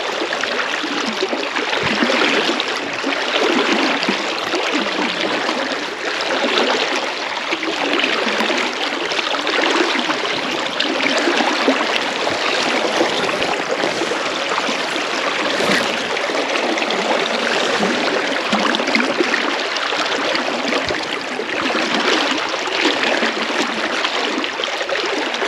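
A river running at a fishable water height rushes steadily and close by, a continuous broadband wash of flowing water with no voices over it.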